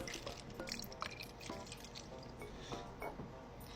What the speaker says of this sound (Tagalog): let's do a pump and pour